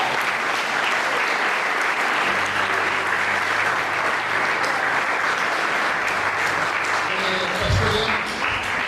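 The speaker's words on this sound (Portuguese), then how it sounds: "E as palmas são para Jesus." A church congregation claps for Jesus during a service, a loud, sustained round of many hands that fills the room, with a murmur of voices and a low thump near the end.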